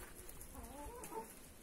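Chickens cluck quietly in short, throaty bursts, faint and a little distant, with no voices around them.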